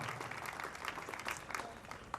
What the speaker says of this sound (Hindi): ताली बजाओ भाई सब लोग